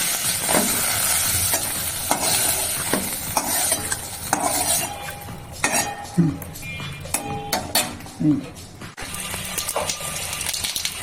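Spices fry in a pan, sizzling steadily while a spoon scrapes and clinks against it in repeated stirs, close and busy, with a voice talking over it.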